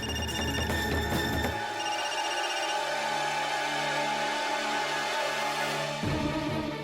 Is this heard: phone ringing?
yes